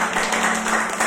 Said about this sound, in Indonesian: Ya tepuk tangan buat Tuhan Yesus